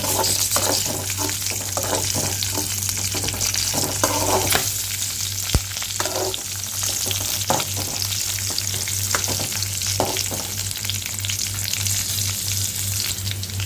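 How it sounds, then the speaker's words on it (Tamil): Ingredients for mint chutney sautéing in a pan, a continuous close sizzle with repeated stirring scrapes over a steady low hum, no talk. "இதை நல்லா நல்லா வதங்க வதங்குற வரைக்கும் நல்லா வதக்கிக்கலாம்"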